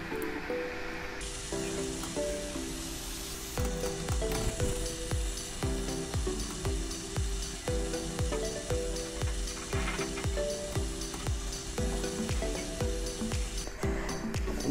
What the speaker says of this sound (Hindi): अब तेज बॉयल आना शुरू हो गया